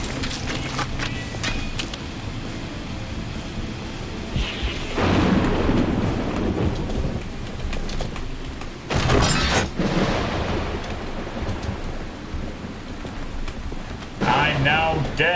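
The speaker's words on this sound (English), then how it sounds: "Thunder and lightning, very, very deafening." Heavy rain pours steadily in the Painkiller: Resurrection video game while loud thunder claps and rumbles break through several times, the storm filling the scene with dense, continuous noise.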